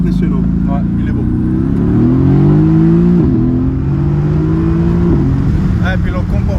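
A Mercedes-AMG GT S Edition 1 engine revs up in rising and falling steps, loud and close, while people speak over it.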